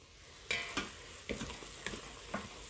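Green beans being stirred in a hot Fissler pot, with a handful of scraping, clattering stir strokes spaced about half a second apart over a soft, steady sizzle.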